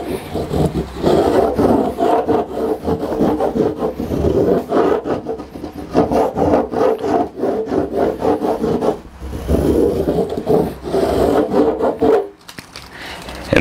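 Surfboard rubbed with wax in steady, continuous rasping strokes, close and fairly loud, with brief pauses between passes.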